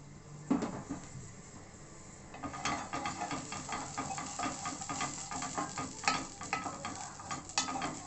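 Ghee in a pan with black pepper gives a steady close sizzle of frying. Stirring scrapes and a few sharp clinks come in after the first couple of seconds, and no one speaks.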